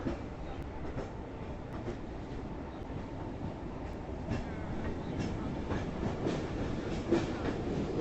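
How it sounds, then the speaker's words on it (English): A tram rolls past on its rails with a steady low rumble and faint rhythmic clicking, moderately distant and continuous throughout. "There's the tram."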